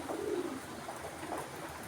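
Soft, low pigeon cooing from a cage, a few throaty coos close by with faint background noise.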